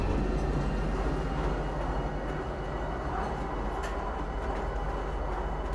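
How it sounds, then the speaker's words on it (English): Lorville train system in Star Citizen running past the habitation area, a steady dense rumble and rolling hum, loud and even throughout with no voices. "If you haven't seen Lawfield before, this is the train system."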